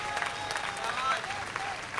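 An audience at a Hindi poetry event claps steadily in a dense, continuous burst of applause, fairly loud and close throughout.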